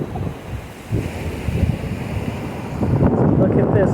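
Ocean surf and wind on a beach at Zacatitos in Baja, Mexico give a steady broadband wash with gusty microphone buffeting, swelling louder near the end.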